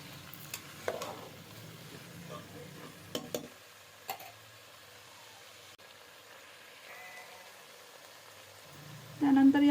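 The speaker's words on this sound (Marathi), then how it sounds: "तर आता हे व्यवस्थित परतून घ्यायचं आहे." Mixed vegetables for a Bhogi-style bhaji sautéed and stirred in a pan, a soft steady sizzle with occasional clicks and scrapes of the spoon, growing louder at the end.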